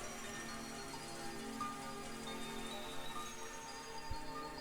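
Steady rain falls continuously at even loudness, a dense hiss with scattered drips and taps and one soft thump near the end.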